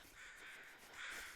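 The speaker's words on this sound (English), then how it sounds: "I'm hearing two murders of crows." Carrion crows cawing in the wilderness of The Long Dark survival game, a harsh continuous cawing that sounds fairly distant and faint, with no voices.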